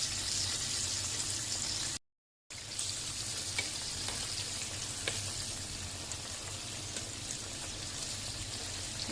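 Breaded zinger burger chicken pieces fry in hot oil with a steady, dense sizzle and crackle that continues close and loud throughout, broken only by a brief silent gap early on.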